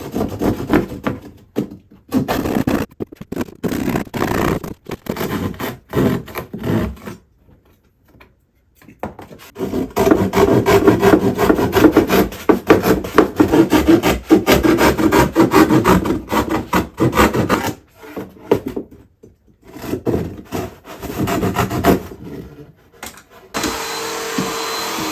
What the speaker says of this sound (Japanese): とりあえずこんな感じで背面に穴を開けることができました。